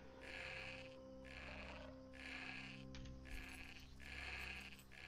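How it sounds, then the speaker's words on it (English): Sheep in the Age of Conan: Unchained video game bleat repeatedly, several drawn-out wavering cries in a regular sequence over a steady low ambient game drone, quiet overall. "Oh, cool. Sheep."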